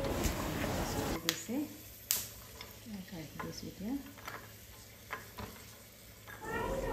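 Cashews and almonds frying in ghee for winter ladoos give off a steady close sizzle, broken by a few sharp clicks and scrapes of stirring.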